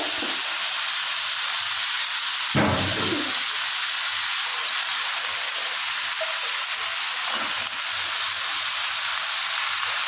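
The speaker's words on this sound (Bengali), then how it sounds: "ভালো করে কষিয়ে নেবো" Pumpkin, potato and thick greens stems sauté in a hot pan with a steady, loud hiss that lasts throughout, swelling briefly early on, with no voices.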